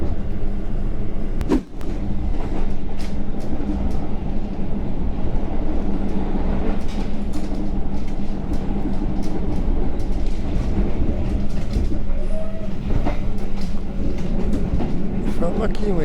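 The Argo Parahyangan passenger train to Bandung rolls along the tracks with a continuous loud rumble and rattle from inside the carriage, with brief knocks and squeals and some people talking.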